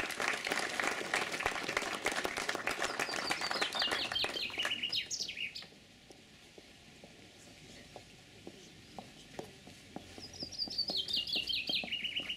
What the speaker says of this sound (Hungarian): egy tapsot megérdemelnek